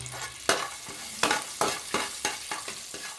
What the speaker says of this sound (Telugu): ఒక గరిట ఆయిల్ పోసేసుకొని జీడిపప్పు వేయించుకుందాం